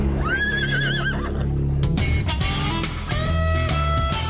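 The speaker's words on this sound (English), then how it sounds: "the world's very first recipient of a seeing eye horse" A seeing-eye horse whinnies loudly and close up, a rising, wavering neigh, followed by snorts and some shuffling movement.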